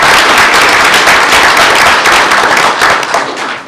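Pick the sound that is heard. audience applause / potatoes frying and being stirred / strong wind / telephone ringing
audience applause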